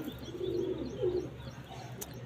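A pair of Tanga pigeons, black and white with eye markings, gives a soft low cooing in two short phrases, faint and close in a quiet setting.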